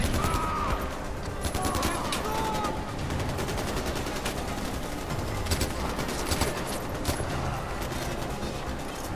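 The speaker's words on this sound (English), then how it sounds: "I'm shooting these guys in the head." Gunfire from the video game Far Cry 4, a steady rattle of close automatic shots and bursts running throughout over a dense battle din, with a voice briefly heard in the mix.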